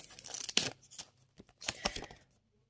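A collectible football card pack is ripped open by hand, several close, crinkly tearing bursts with short pauses between them, ending in quiet.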